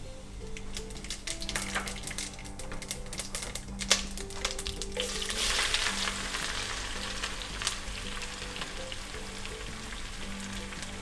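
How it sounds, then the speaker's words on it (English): Whole cardamom, cloves, black pepper and cumin seeds sizzling in hot oil for a Rajasthani mutton curry, a close crackling fry with sharp spits and pops, swelling briefly in the middle before settling to a steady hiss. "I'll add our whole spices to that."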